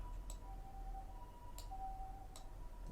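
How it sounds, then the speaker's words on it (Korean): A faint, distant ambulance siren wails steadily in the background behind soft room noise, with a few light clicks. "지금 구급차 소리가 좀 나고 있습니다."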